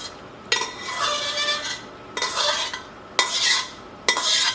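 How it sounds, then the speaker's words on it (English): Four sharp clinks of glass and utensils ring out near a small Pyrex dish of hot and sweet chili sauce as its lid is fitted, each bright knock followed by a short scraping rattle, no talk. "These little Pyrex dishes, and then I can put a lid on it."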